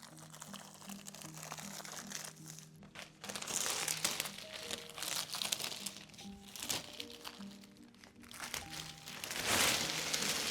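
Close, continuous crinkling and crackling as plastic film peels away from a wood slat wall panel, with rising and falling rustles over a low steady hum.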